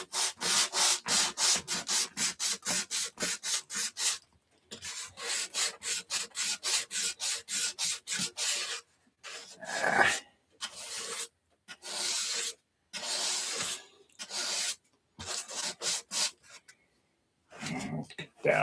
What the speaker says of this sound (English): I think a little more sanding on that dot right there